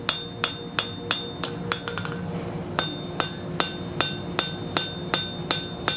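A hammer taps a hot steel branching scroll on an anvil in an even, ringing rhythm of a dozen or so close blows, pausing briefly midway, with no talk over it.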